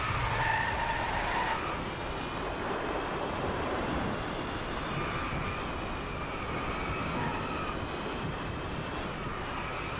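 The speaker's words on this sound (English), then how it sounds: "it's so easy to drift in this car, and yet I still can't" A car drifts in the racing game Driveclub on a Japan track, its tyres giving a continuous, rushing skid under steady engine and weather noise.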